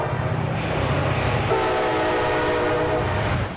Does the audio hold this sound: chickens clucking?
no